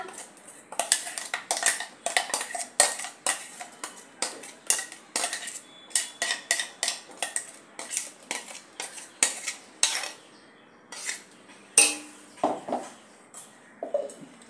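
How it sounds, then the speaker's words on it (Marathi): A spoon scrapes and taps against a metal mixer jar and wide plate while a ground onion masala paste is emptied out: a long series of sharp, close metallic clinks and scrapes in an irregular rhythm. "आता हे वाटण आपण एका परातीत काढून घेऊया"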